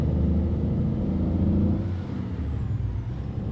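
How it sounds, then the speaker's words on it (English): In American Truck Simulator, an International HX520 heavy-haul truck engine drones loud and low as it revs climbing uphill, a dense steady rumble that eases slightly partway through, alone without talk. "we'll let it actually run up the RPMs here, considering we have to go uphill"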